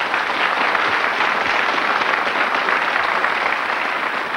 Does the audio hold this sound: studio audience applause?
yes